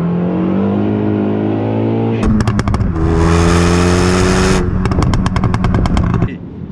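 A turbocharged hybrid car engine tuned for pops and bangs drones, then revs hard with rapid stuttering pops, rises to a loud high whine, and crackles again before settling; close and loud.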